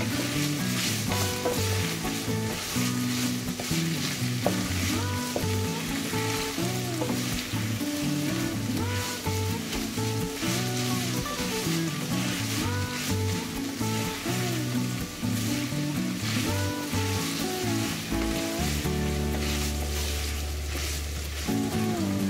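Chicken sauté for tavuk sote, with a dessert spoon of pepper paste, stirred in a hot pan that gives a steady, close sizzle and frying hiss throughout, partly masked by continuous background music.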